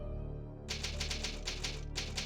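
Rapid typewriter keystrokes clack out a word on a save screen in the PS1 survival horror game Resident Evil, in a steady burst of close, crisp strikes over a low droning background.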